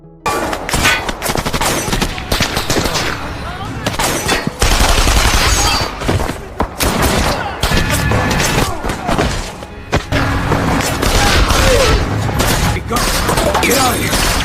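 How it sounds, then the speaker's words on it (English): Shootout gunfire from a film, loud bursts of shots and heavy thuds packed densely across the whole stretch, with short gaps, under a busy score and a few shouted voices. "Morales' men had also surrounded and started shooting at them."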